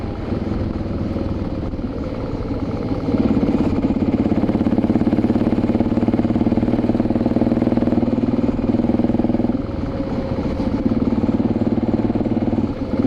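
A BMW motorcycle ridden along a rough road with gravel down the middle, its engine droning steadily up close with a slight rise and fall and a constant rush of wind.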